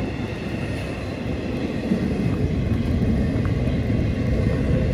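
A Norfolk Southern or CSX train rumbles steadily past nearby in Spartanburg, South Carolina, a continuous low rolling roar of wheels on track with faint metallic clanks.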